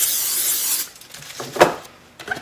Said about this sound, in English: go ahead and just spray it with some non-stick spray